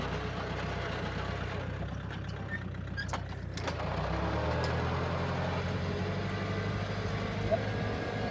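A tractor engine idling on a farm, a low rhythmic diesel chugging that steadies and deepens partway through, with faint clicks and brief sharp knocks above it.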